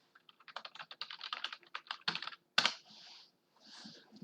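Typing on a laptop keyboard, close and fairly quiet, with a quick irregular run of key clicks, a heavier key strike near the middle and a brief soft rustle afterward, no talking.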